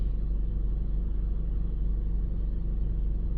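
A Honda CR-V engine idles steadily after the accelerator is released, a continuous low rumble with a faint even hum, close and unbroken, no talking over it.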